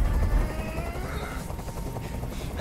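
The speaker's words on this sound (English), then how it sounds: "I can't stand that noise anymore. Tell that helicopter to get out of here." Helicopter hovering nearby in Detroit: Become Human, a steady low rotor rumble and engine whine that fills the scene under tense surroundings.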